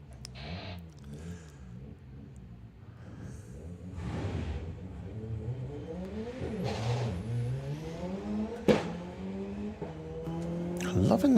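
Drag racing car at a Doorslammers meet revving hard, its engine note climbing through rising gear sweeps and getting steadily louder, with crowd noise and a loud sharp crack near the end.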